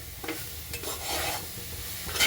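Coconut burfi mixture stirred and sautéed in a pan, a close, continuous scraping and soft sizzle with rhythmic spoon strokes over a brief stretch.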